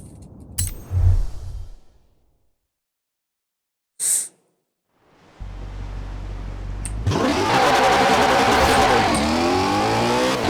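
A Koenigsegg Agera in Forza Horizon 4 starts up, then its engine roars in a loud, steady acceleration that climbs through the gears and builds in intensity, with no talking over it.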